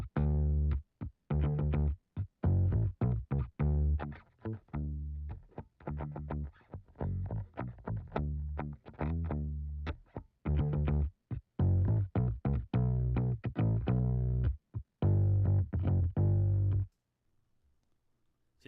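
Bass guitar run through a noise gate and other effects, chopping each note off sharply so the line comes out in tight, stuttering rhythmic bursts with clean silences between; loud and alone, ending in a brief quiet tail.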